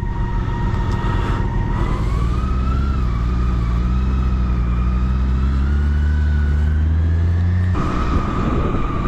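BMW K1600B six-cylinder bagger motorcycle pulling away from a start, a steady loud engine drone with rising pitch as it accelerates, close up and continuous throughout.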